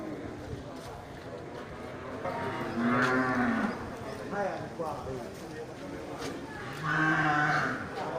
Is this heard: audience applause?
no